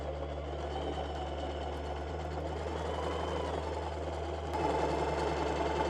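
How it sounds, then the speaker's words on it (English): Sewing machine stitching fabric for baggy shorts, a steady close mechanical hum and rapid needle rhythm running throughout, slightly louder near the end. "Then we're gonna sew around the pocket and all the way down"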